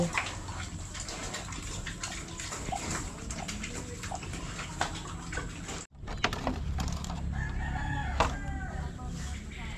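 A rooster crows outdoors amid a busy farmyard backdrop of running water, scattered clucks and a barking dog, with a brief gap midway.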